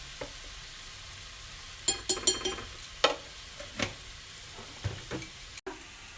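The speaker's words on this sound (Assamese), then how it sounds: "তৰকাৰী ধুনীয়াকৈ উতলি আহিছে" A pan of Assamese mannimuni greens curry, seasoned with salt and turmeric, simmers and bubbles quietly, with a soft steady sizzle and scattered small pops and clinks.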